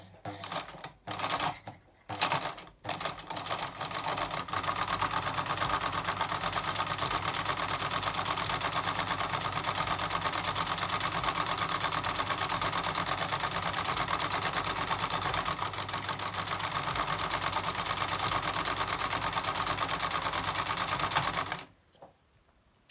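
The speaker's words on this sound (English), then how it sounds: "I've got this nifty little low shank adapter for my sewing machine so that I can actually use Singer attachments on my Bernina." Bernina sewing machine fitted with a Singer frilling attachment through a low shank adapter, a few short starts and stops followed by a long steady rapid mechanical clatter, close and loud, then cutting off abruptly.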